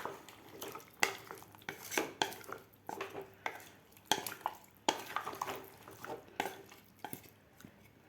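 Vegetables for pav bhaji, with salt and two glasses of water added, get mixed in a pressure cooker: irregular spoon scrapes and clanks against the metal pot, close by, in uneven bursts with no talk.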